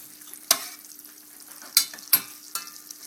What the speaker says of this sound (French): J'essaye de faire fondre le beurre plus rapidement.